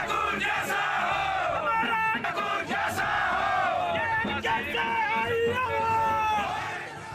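Dense crowd of political supporters at a by-election in Jubbal Kotkhai shouting victory slogans, loud and continuous, with overlapping yells, chants and whoops filling the whole stretch.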